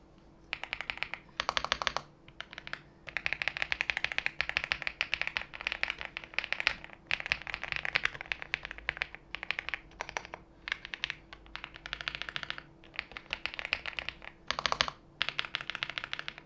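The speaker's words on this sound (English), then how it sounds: "with the camera to the keyboard so you guys can hear how it sounds like" Close-up typing on a Womier MT75 mechanical keyboard, rapid clicky keystrokes in bursts with short pauses between.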